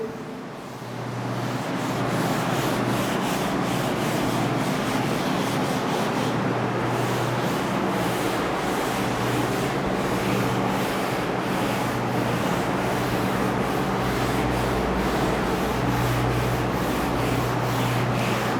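Continuous broad scrubbing as chalk writing is rubbed off a classroom board, close and steady for many seconds without talk.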